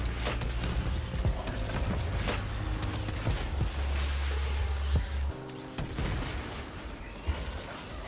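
The Aeolak's alt fire in Warframe pounds away in a dense run of booming, rapid shots over a rumbling low bed, loud and continuous, with a brief gap and a few bursts afterward.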